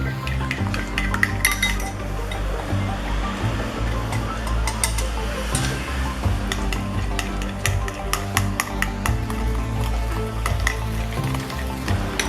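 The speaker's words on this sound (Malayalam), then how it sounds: "ഇനി ഇത് നമുക്ക് നന്നായിട്ടൊന്ന് സ്പൂൺ വെച്ചിട്ട് ഇളക്കി യോജിപ്പിക്കാം" A spoon stirs powdered sugar into egg yolks in a bowl for a Vancho cake. The mixing scrapes and clicks in a steady, busy rhythm, close and fairly loud, with no talk.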